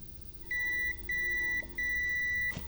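A multimeter gives three steady continuity beeps, each held for about half a second with short gaps, while its probes test the legs of an inverter MOSFET, heard alone at close range.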